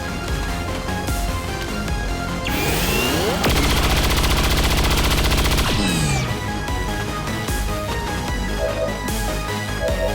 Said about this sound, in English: We'll take our further back grenadier to take the first shot.